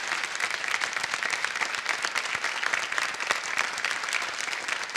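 Loud, dense applause from a television dance competition audience after a patriotic act, a steady unbroken roar of many hands clapping at close range with no talk over it.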